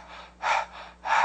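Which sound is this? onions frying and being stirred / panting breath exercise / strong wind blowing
panting breath exercise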